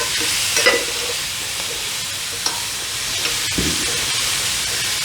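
Sausage, peppers and onions sizzle steadily in a pan on a small electric hot plate at medium heat, with occasional scrapes and taps of a spatula stirring them through the continuous frying hiss.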